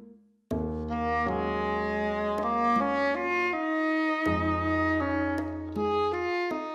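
Gentle, hopeful village theme from the video game The Legend of Zelda: Breath of the Wild, playing for the town of Tarrey Town. Soft sustained chords and a light melody begin after a brief silence and continue steadily, with occasional bright plucked accents.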